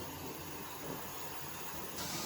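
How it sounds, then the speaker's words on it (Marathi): Water at a rolling boil in a cooking pot, ready for blanching spinach, a steady bubbling hiss that continues without pause, close and moderately quiet. "तर इथे पाण्याला उकळी आलेली आहे"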